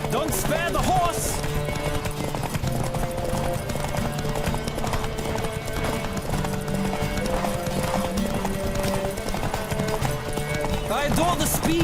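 Galloping horse hooves clatter steadily through a horse race in The Witcher 3, loud and continuous beneath music and shouted game dialogue, with a brief whinny near the start.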